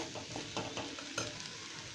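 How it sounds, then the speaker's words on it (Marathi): Mashed potato masala stuffing stirred and sautéed in a pan, a steady close-up scraping and soft sizzle with a few sharper spoon strokes, no voices. "सगळा मसाला व्यवस्थित मिक्स करून थोडंसं परतून घेणार आहोत"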